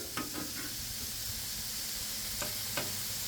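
A grilled cheesesteak sandwich sizzles on a Blackstone griddle, a steady broadband hiss with a few soft spatula scrapes and clicks, close and continuous without any talking.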